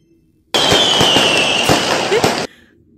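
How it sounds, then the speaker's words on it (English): Magic sound effect from the CapCut video editor: a sudden two-second burst of sparkling, crackling shimmer with a high glittering tone and small pops, starting abruptly and cutting off cleanly, loud against near silence. "So we're gonna add the magic sound where I put the Capcut text"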